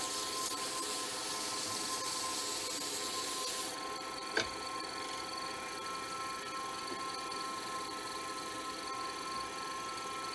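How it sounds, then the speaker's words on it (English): A pen blank is sanded on a lathe with 600 grit sandpaper, giving a steady, even rubbing hiss throughout with one brief sharp tick near the middle. "that there was 400 grit, now I use 600 grit"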